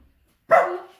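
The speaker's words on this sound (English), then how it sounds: "That's my dog. I'm sorry. He's making a lot of noise." A dog gives a single loud, close bark that trails off over about half a second, with no other sound around it.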